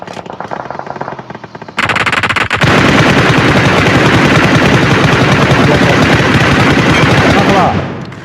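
Gunfire in the video game PUBG Mobile: after a few scattered shots, a loud sustained burst of rapid automatic fire runs for several seconds before cutting off.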